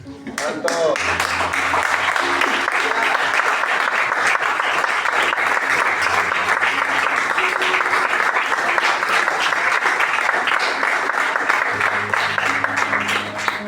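Steady, loud applause from a large crowd, sustained throughout with dense clapping and no pauses.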